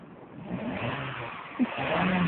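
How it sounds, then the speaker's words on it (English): A car engine that has been flooded during Hurricane Sandy in Jersey City runs and revs, a muffled mid-range drone that swells slightly, with a brief bump and a faint outdoor background. "Don't rev it too much."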